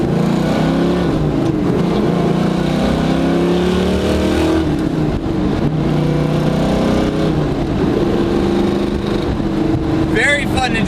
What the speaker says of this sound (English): I'm going to get on it about quarter throttle, go ahead and show you how it runs through the gears.